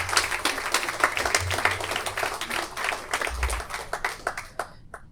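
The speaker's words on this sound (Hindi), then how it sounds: "आप से गुजारिश है कि तालियां जोरदार बजा दीजिए" Audience applause at a mushaira poetry recital in Delhi: steady, dense clapping from a crowd filling the whole stretch, with a few sharper individual claps standing out before it thins at the end.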